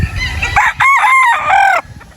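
A rooster on a farm crows loudly and close by, one long drawn-out call in several wavering segments, with faint background noise before and after.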